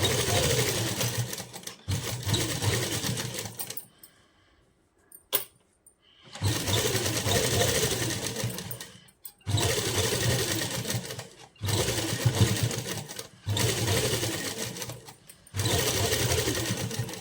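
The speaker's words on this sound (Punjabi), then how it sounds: "ਦੋਨਾਂ ਪਹੁੰਚੇ ਤੇ ਇਸ ਤਰ੍ਹਾਂ ਸੀਨ ਲਾ ਲੈਣੀ ਹੈ" An electric sewing machine stitches a seam on salwar cuffs in loud, close bursts of rapid motor whir, separated by short pauses and quiet handling sounds between runs.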